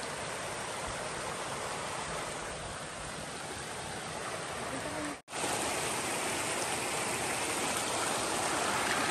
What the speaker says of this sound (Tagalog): Hey guys, ito yung falls.